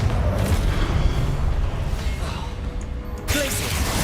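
A Confringo fire-blast spell goes off in the Hogwarts Legacy video game, a dense rumbling combat din that ends in a sudden bright blast near the end, loud and close.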